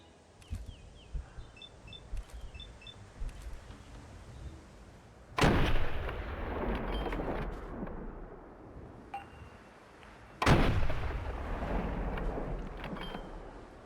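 Gunfire in the modded video game Fallout 4: two heavy booming shots a few seconds apart, each a sharp loud burst with a long rumbling decay over a constant low wind-like background.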